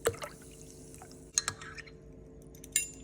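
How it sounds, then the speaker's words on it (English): Calm Magnesium powder fizzing in warm water in a glass, with a faint, close hiss of bubbling broken by a few sharp drips and clinks, quiet and without talking. "See, it's still bubbling."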